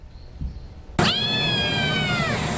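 A cat at a Wayside Waifs 'Feline Frenzy' adoption event gives one loud, drawn-out meow that starts abruptly a second in and holds steady to the end, close to the microphone with no talking.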